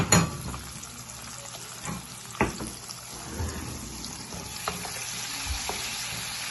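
Onions fry in a pan as the base for spinach rice, giving a constant soft sizzle. Occasional stirring clicks and scrapes sound close over it.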